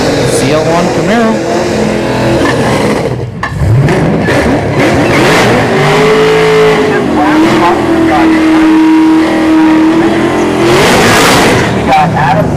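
Drag racing cars, a manual-shift 2011 Cadillac and a Camaro, rev loudly and launch down the strip, engine pitch climbing and holding steady before fading, with crowd noise and voices throughout.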